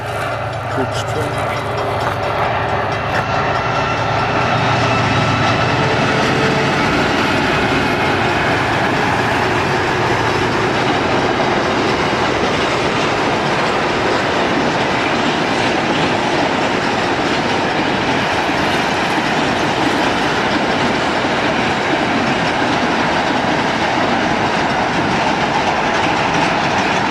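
A long, loud train roars past nearby on standard gauge track in Chiltern, Victoria, with continuous clattering wheels and occasional metallic squeals, steady throughout.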